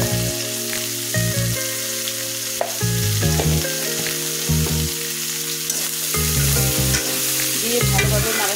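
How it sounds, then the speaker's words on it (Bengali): Fresh river fish frying with turmeric and chili powder, a loud steady sizzle under repeated stirring scrapes and low rhythmic bumps from the pan, close and continuous. "দিয়ে ভালোভাবে নাড়াচাড়া করে নিই।"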